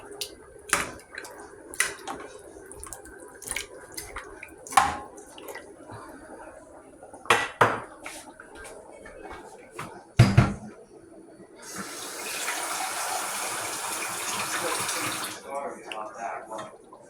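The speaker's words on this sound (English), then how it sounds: "I'm gonna put a little bit more water in there." Water pours into a pot in a steady stream for a few seconds, after scattered clinks and knocks of kitchenware while cooking pollo guisado; quiet voices are heard early on.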